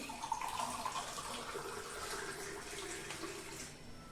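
Water runs and splashes softly into a pot of Maggi noodles for a few seconds, quiet and close.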